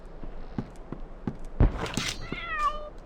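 Cat meowing inside the 2002 World War I shooter game Iron Storm: several short soft mews repeat at a steady pace, then a louder drawn-out meow near the end over a quiet game background with a single thump.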